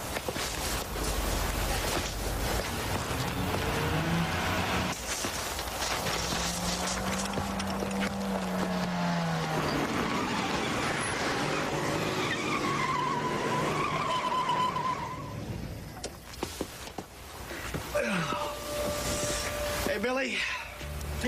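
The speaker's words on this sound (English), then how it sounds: "Crazy car, Uncle David." A car drives past and its tires skid with a sustained screech. Engine and road noise run steadily throughout, along with other background sounds.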